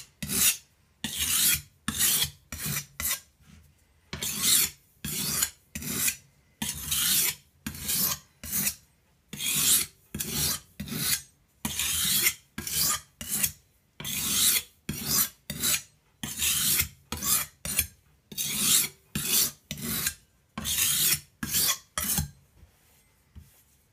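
A knife blade is stroked back and forth across an oiled sharpening stone, producing steady rhythmic rasping scrapes, each stroke a short gritty swipe separated by brief pauses, close and clear with no talking.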